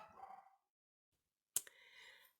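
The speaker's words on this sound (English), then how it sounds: "My dogs are going crazy upstairs and barking" Dogs barking from upstairs in a house, heard as a muffled burst, then silence, then a sharper bark followed by a short yelping tail, all somewhat distant and indoors.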